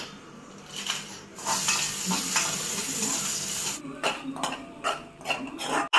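Pasta cooking in a pan, stirred with steady scraping and clinking of the utensil against the metal over a continuous sizzle, close and fairly loud, with no voices.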